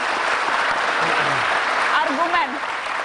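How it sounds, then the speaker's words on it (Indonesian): Applause in a televised Indonesian political discussion, steady clapping from a studio audience with a voice talking faintly over it partway through. "kita kasih tepuk tangan kalau begitu"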